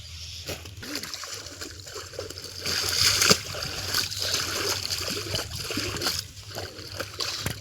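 Clothes washed by hand with Wheel detergent are rinsed in water, giving irregular splashes and sloshing that swell in the middle, with a trickle between them, close by and moderately loud.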